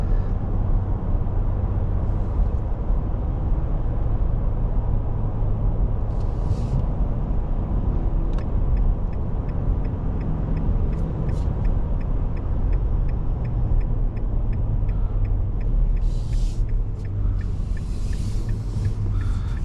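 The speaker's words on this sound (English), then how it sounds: "It's genuinely, it uses a lot of engine braking, but in turn, it ends up acting like a sport mode." Cabin drone of a 2025 Nissan Frontier Pro-4X in tow mode under heavy engine braking, a steady low rumble of engine and road noise with faint ticking above, continuous and fairly loud, no talk.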